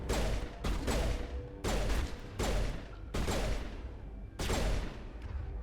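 Repeated bursts of gunfire in the video game Mass Effect, about six loud sustained volleys separated by short gaps, with no talk over them.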